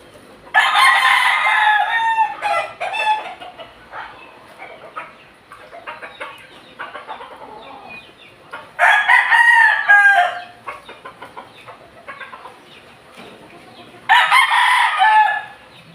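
A kanaway rooster crows three times in loud, close bursts spread across the stretch, with softer clucks and farmyard murmurs filling the quieter gaps between.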